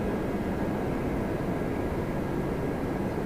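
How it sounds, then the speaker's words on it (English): Airplanes flying near Toronto Pearson airport: a steady, broad jet roar at moderate distance with no clear rise or fade, heard alone without talk. "a couple planes there"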